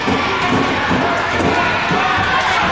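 An angry crowd at a Portland professional wrestling match roars in a dense, loud, continuous wall of shouting and jeering.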